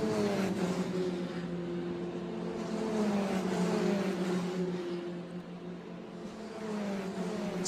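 F3 race cars circling the Yas Marina circuit during an F3 Asian Championship race, with high-pitched engine whines rising and falling as cars pass at a distance, continuous and moderately faint.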